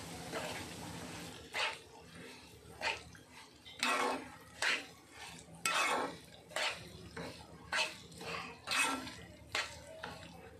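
Rava being dry-roasted in a pan, with repeated rhythmic scrapes and clinks of a spoon against the pan at close range and a faint background murmur between strokes.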